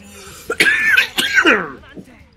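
A person coughs twice in quick, harsh fits close to the microphone, with throaty vocal sounds between them.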